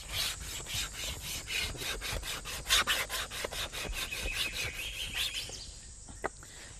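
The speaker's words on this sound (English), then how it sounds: "we can make that into two little tinder bundles by scraping" Dry bamboo wood fibres are scraped into tinder with rapid, rhythmic rasping strokes, close and fairly loud, ending in a few quieter scrapes and a single click.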